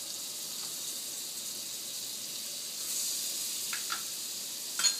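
Butter melting in a hot pan for an omelette gives a steady, soft sizzling hiss that swells slightly partway through, with a few faint crackles near the end.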